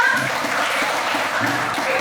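Clapping from a classroom of students during a lesson on Pancasila values, a steady patter of many hands filling the whole two seconds with a faint voice beneath.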